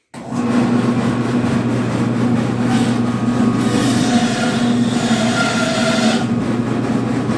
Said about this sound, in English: here goes the meat saw. Lock it up. Okay, now it's going to be a little loud